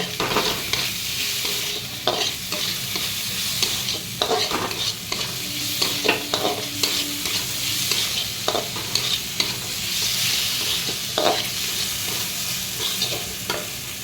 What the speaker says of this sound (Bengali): এবার এটাকে আমি হাই ফ্লেমে ভালো করে ভেজে নেব।